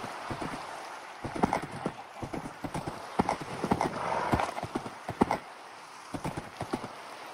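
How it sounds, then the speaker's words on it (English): Horse hooves clip-clop in steady repeated bursts in the Minecraft video game, with a brief whinny mixed in; close and fairly loud, no talking. "That's a nice horse."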